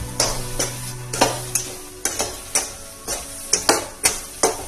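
Semolina laddu mixture with cardamom powder and food colouring being stirred in a pan, a spoon scraping in repeated strokes roughly every half second, close and clear with a faint sizzle beneath.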